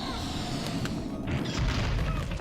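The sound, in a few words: boulder from a decorated cannon beetle crashing, Pikmin 2 video game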